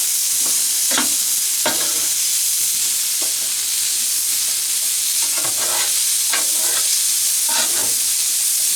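A steak searing in butter in a pan at a forest campsite sizzles steadily throughout, with several sharp scraping and stirring clicks scattered over the frying hiss.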